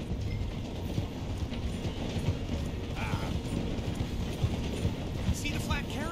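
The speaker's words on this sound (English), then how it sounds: "The train is slowing down to go through the station." Train slowing through a station in Red Dead Redemption 2, a steady rumbling clatter of wheels and carriages with occasional squeals and clanks, continuous and fairly loud throughout.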